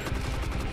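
Gunfire in the video game We Are Being Hunted: a rapid, loud burst of repeated shots, close and dense, firing in quick succession like an automatic weapon, with no talk over it.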